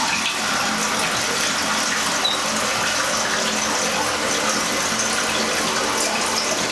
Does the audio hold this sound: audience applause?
no